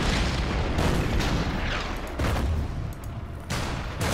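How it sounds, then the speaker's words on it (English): Artillery fire pounding British heavy infantry in the strategy game Order of Battle, a dense, loud rumble of overlapping booms with several sharper bursts in close succession. "fire on with the artillery"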